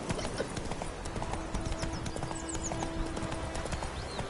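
Horse hooves clip-clop at a steady trotting rhythm across the ground in The Witcher 3 on PS4, close and continuous throughout, with a faint whinny and soft game ambience underneath.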